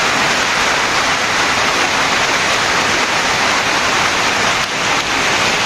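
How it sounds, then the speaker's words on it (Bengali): Steady, dense rain hissing close by, an unbroken wash of noise for several seconds with no voices. "কম বেশি বৃষ্টি হচ্ছেই"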